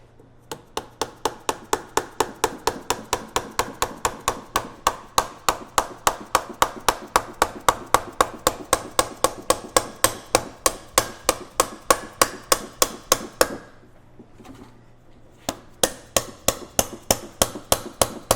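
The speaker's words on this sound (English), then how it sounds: "just tap it the rest of the way in with a plastic hammer." Rapid, steady series of sharp tapping hits from a plastic hammer, dozens in a row with a brief pause near the end before resuming, fitting a front ARB locker on a 100 Series Land Cruiser.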